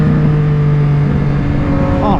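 Triumph Street Triple 765RS motorcycle engine idling loud and close with a steady low rumble, then a quick throttle blip that sweeps the pitch up near the end.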